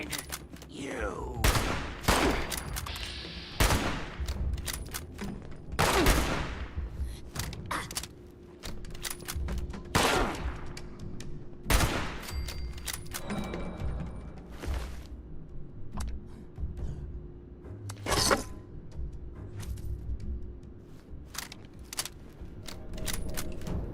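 Gunfire at a slow rate of fire in the video game Fallout 76: single sharp shots crack out every second or two across the stretch, loud and close over a steady background bed.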